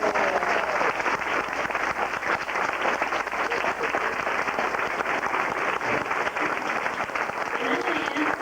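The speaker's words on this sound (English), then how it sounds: "Give them a nice round of applause." Sustained applause from an audience at a 2001 school awards ceremony, steady dense clapping filling the full stretch without a break, fairly loud and even throughout.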